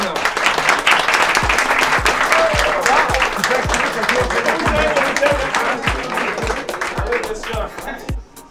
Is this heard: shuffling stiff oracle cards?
no